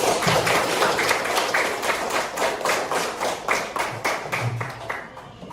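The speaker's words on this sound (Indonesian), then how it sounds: "Ya, tepuk tangan untuk kalian semua." A primary-school classroom of children claps together in quick, uneven rhythmic bursts, close and steady, with a few thumps mixed in.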